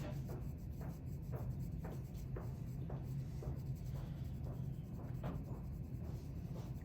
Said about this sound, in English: I'm just shading the shapes versus drawing them with really defined